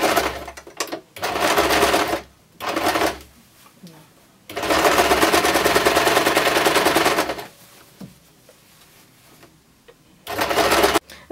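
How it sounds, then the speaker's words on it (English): A sewing machine stitches elastic into the waistband of a pleated skirt, running in loud close bursts of rapid needle chatter separated by pauses, with a voice talking in the gaps. "put your needle right in the middle of this waistband and start to sew by pulling the elastic"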